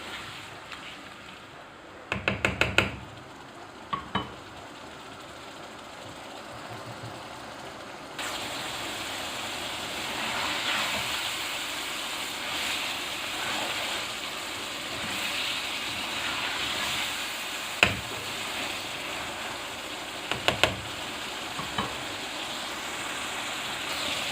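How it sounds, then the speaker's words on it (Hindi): Okra (bhindi) frying on a high flame in a pan, a continuous loud sizzle with occasional sharp clinks and scrapes of stirring, steady from start to finish with no talking. "जी भिंडी को मैंने तेज़ आंच पे पका ली है 2-3 मिनट"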